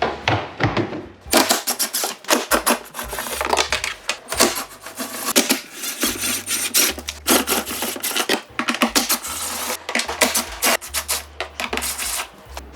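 Screws are loosened from the tub of a Samsung drum washing machine with a 10mm socket wrench, giving rapid close ratcheting clicks in bursts with short pauses, loud, with no talking.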